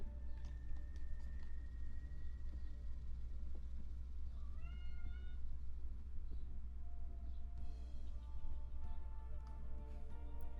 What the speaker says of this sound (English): I don't know if your cats are mad at you.